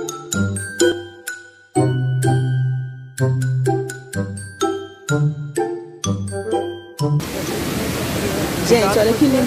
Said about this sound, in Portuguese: Gente, olha que linda essa cachoeira, ó.